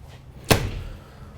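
The exit door of a 2021 Newmar Ventana 4369 motorhome shuts with one sharp, close slam that fades into a short thud and quiet room tone.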